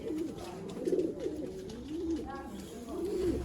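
Teddy pigeons for sale in Sialkot, giving repeated soft, low cooing calls in a steady rhythm close by, with faint talk in the background.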